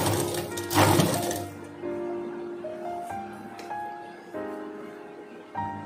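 Sewing machine stitching elastic onto a skirt, with a short rattling burst followed by several separate runs of mechanical stitching hum, close and moderately loud.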